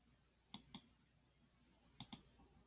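Computer mouse clicks while working in CAD software, four soft, close clicks in two quick pairs against a quiet room.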